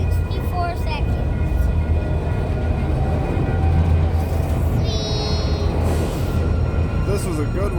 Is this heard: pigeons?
no